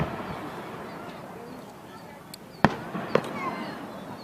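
Golden palm firework shells burst at an outdoor Maryland fireworks show, with two sharp booms close together and crackling afterward, set against background crowd noise and distant chatter.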